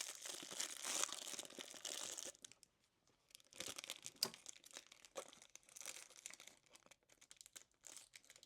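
A sheet of stickers is ripped apart at a desk, giving bursts of close crinkling, papery tearing in two stretches separated by a brief pause, with no talking.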